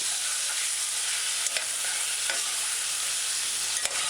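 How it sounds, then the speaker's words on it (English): Broad beans being stir fried in a pan on a stove give off a steady, loud sizzle, with a few faint scrapes from the stirring utensil. "Now add your broad beans and stir fry."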